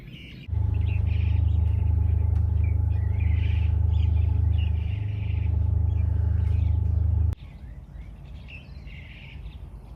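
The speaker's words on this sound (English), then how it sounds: "We can hear the birds from the island." Distant birds chirp and call from an island under a heavy low rumble from a cement works that abruptly stops, leaving the bird calls over a quieter background.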